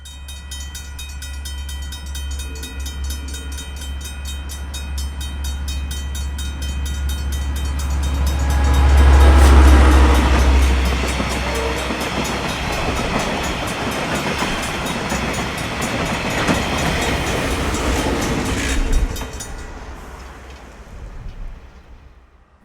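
Freight train running on a New Zealand line in a train simulation game, with a steady rumbling roll and rhythmic wheel clatter, a low horn-like drone, swelling louder midway and then fading out near the end.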